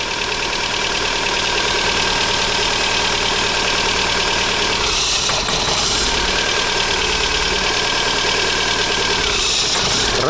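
A Golf IV 1.6 AZD engine idles with one spark plug lead pulled off, giving a loud, close, uneven running note with a rough, knocking pulse, alone without voices.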